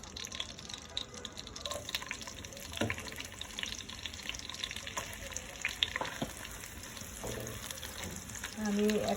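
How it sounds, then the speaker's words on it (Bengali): Garam masala sizzles and fries in hot oil in a pan for a fish head curry, a soft continuous crackle with occasional stirring scrapes, fairly faint and close, with a louder hiss near the end. "গরম মশলা দিয়ে একটু ভাজবো।"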